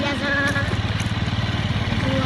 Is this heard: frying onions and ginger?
no